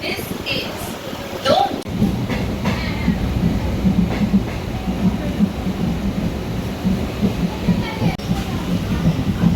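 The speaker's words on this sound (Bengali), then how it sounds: "ট্রেন ছেড়ে দিয়েছে" A Bandel local train departs on a rainy day, rumbling and rattling steadily after a sharp clunk near the start, its low drone continuing throughout as people talk nearby.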